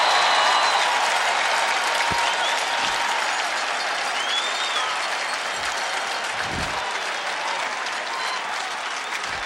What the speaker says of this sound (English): Now the crowd is really pumped.